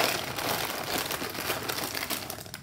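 Cheap plastic fidget-toy bag crinkling as it is grabbed and handled, a steady close crackle lasting a couple of seconds with no talk over it.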